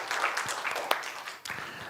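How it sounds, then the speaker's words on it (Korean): Church congregation applauding during a Korean worship service, a short burst of scattered clapping at moderate distance with a faint voice underneath. "하나님께 영광의 박수 올려드리겠습니다"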